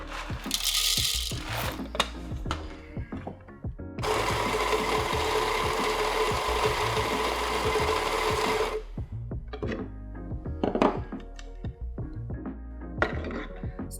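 A Baratza Vario+ coffee grinder grinds a small test batch of coffee beans, a steady, dense burr whir of about five seconds set between clicks and light handling clatter, with no talking.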